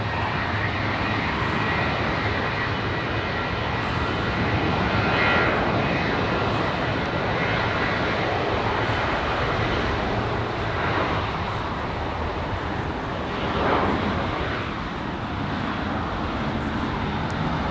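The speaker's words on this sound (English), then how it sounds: "Nice flare on the 75. Come on, touchdown. Here we go. Nice touchdown. Floating there over the runway a little bit there." Boeing 757 airliner landing at LAX airport, a steady loud jet engine roar with broadband rumble and hiss that swells slightly as it flares and touches down, continuous throughout without talk.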